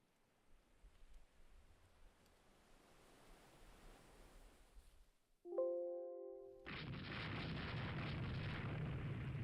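Naval gunfire from a warship at a sinking destroyer in the Rule the Waves 3 game, a sharp boom with ringing tones followed by a loud sustained roar of battle noise, preceded by quieter ocean rumble.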